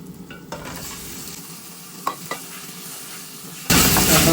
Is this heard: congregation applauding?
no